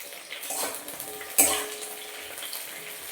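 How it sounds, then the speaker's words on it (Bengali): Yardlong beans frying in oil after pointed gourd for a red amaranth stem vegetable curry, a steady close sizzle and crackle with a brief sharp clatter from the pan midway, no talk. "তো বরবটিগুলো হালকা একটু ভেজে নেব।"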